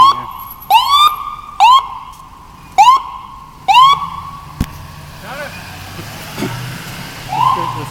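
An ambulance siren wails on a city street in repeated rising whoops, loud and close, then fades into traffic noise as a person speaks nearby.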